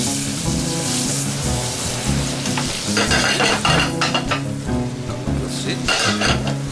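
Beef tongue sautés in a pan with balsamic vinegar, a constant loud sizzle close by with intermittent stirring and scraping from a utensil against the pan.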